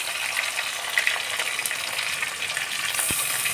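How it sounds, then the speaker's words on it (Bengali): Crushed and whole garlic fry in hot oil for a potato egg curry, giving a steady close sizzle with faint crackles and a soft knock near the end. "থেতো করে রাখা রসুন কুচি দিয়ে দিচ্ছি এবং গোটা রসুন 4খানা দিয়ে দিচ্ছি"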